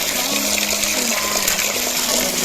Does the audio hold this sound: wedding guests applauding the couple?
no